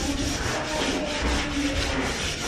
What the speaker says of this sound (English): And the hand sanding continues.